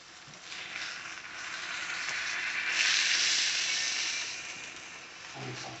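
Cube steak frying in a pan on a stovetop, a steady bright sizzle that swells in the middle and eases off, close and alone, with a faint clatter at the end.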